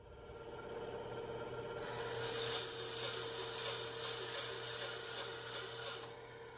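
A saw cutting an end piece of wood for a simple three-string strumstick, a steady rasping whine held for several seconds at constant level, rising slightly midway, then easing off at the end.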